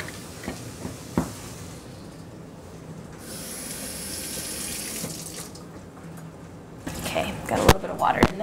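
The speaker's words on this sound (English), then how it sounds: "we're going to also add a 3/4 cup of water" Water poured into a pot of three-bean chili, a soft hissing stream that runs for a couple of seconds amid kitchen clatter and quiet handling noises.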